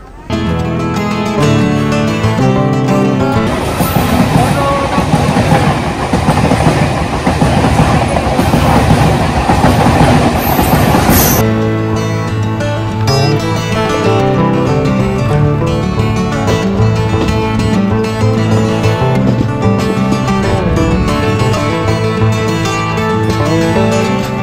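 The Dhauli Express passenger train rumbles loudly at Sakshigopal station, with a steady clatter of wheels and a harsh, bright rushing burst in the middle before the rolling rhythm settles back.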